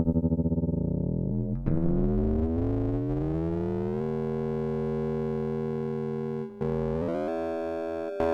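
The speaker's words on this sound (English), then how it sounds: "From standard bipolar ring modulator sounds" Audio run through the Ottobit's ring modulator gives metallic, clangorous sidebands that sweep and bend in pitch, then settle into a harsh sustained buzz with a few abrupt cuts, loud and alone.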